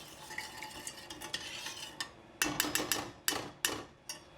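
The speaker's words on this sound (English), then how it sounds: "under medium heat, we're going to bring it to a gentle boil after stirring everything together." A spoon stirring a mixture for walnut roulade filling in a pot over medium heat, a quick series of close, sharp scraping and clinking strokes.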